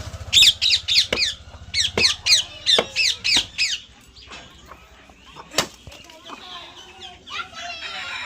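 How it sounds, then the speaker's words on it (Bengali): Pet parrots kept in cages give a rapid run of about a dozen shrill, rhythmic squawks close by, then fall to scattered squeaks and calls on a foggy morning while people talk nearby. "এই দেখো টিয়া পাখি"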